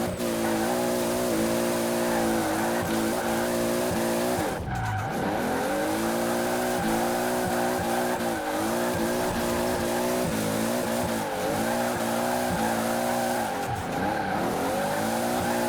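2JZ-swapped Toyota GT86 racing in Forza Horizon 4, a loud continuous engine drone rising and falling with gear changes, with tire squeal and skidding through corners.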